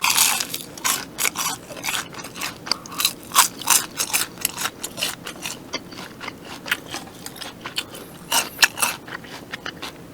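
Crunchy fried chicken neck is bitten and chewed up close, with loud crisp crunches in an irregular rhythm and short pauses between bites.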